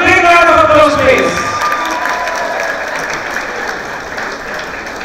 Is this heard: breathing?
no